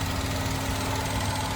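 A 2018 Tata Nexon engine idles with the bonnet open, a steady, smooth low hum with no knocks or belt squeal, heard alone and close.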